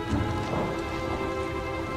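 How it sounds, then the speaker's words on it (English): Rain and a low thunder rumble outdoors in the survival horror game Outlast, with a dense, steady patter and a deep roll underneath, continuous and moderately loud with no voices. "we want to keep walking forward until we hear the rain outside and the thunder"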